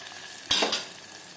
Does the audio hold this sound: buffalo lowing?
no